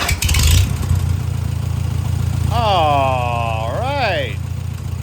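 A Farmall H tractor engine fires up for the first time after a motor swap and settles into a steady running note, with a brief spoken remark over it.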